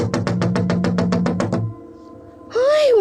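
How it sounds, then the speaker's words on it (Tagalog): Loud, rapid knocking pounds on a door, about a dozen quick blows as a story sound effect, followed by a brief pause and then a sudden rising shout. "bigla siyang binulabog ng isang malakas na pagkatok sa kanyang pintuan"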